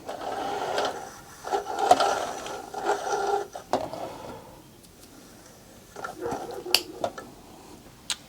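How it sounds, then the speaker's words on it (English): An Elna Lotus sewing machine is turned slowly by hand through its mechanism, giving soft, close clicks and light mechanical rattles in uneven bursts with quiet gaps between. "just turn the machine in operating direction for 1 revolution"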